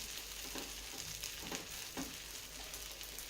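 Rava dosa roasting in oil in a pan over a full gas flame, giving a steady, even sizzle with faint crackles throughout and no talking.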